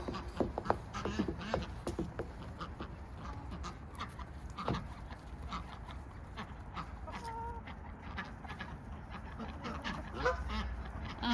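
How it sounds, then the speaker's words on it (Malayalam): Ducks and chickens gather to eat food waste in a yard, honking and clucking at varying distances with scattered pecking and rustling, irregular calls rising and falling over a busy outdoor background. "അതാ വരുന്നു കോഴികളും താറാവുകളൊക്കെ കൂടി"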